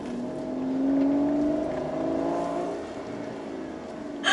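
Older-generation non-turbo Aston Martin engine revving up and holding a rising, tonal growl, then settling lower, close and loud, with a burst of noise at the very end.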